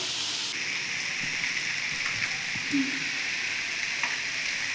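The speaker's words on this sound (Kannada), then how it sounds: "ಈರುಳ್ಳಿ ಸ್ವಲ್ಪ ಎಣ್ಣೆ ಹಾಕೊಂಡು ಚೆನ್ನಾಗಿ ಫ್ರೈ ಮಾಡ್ಕೋಬೇಕು" Chopped onions frying in oil in a home kitchen pan for a dum biryani, giving a steady close sizzle with a few faint stirring scrapes and no talk.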